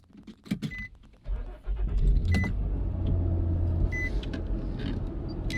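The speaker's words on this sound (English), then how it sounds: "I started my truck" Keys jingle and click nearby, then a Nissan Xterra truck engine cranks and starts, settling into a steady low idle with a few faint beeps.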